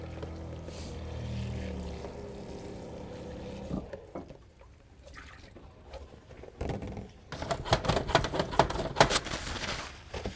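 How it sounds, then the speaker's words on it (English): A wash basin being rinsed out at a sink: water pours and splashes for a few seconds, then quieter clatter and bursts of running water and sloshing, fairly close and moderately quiet. "Rinsing out the basin."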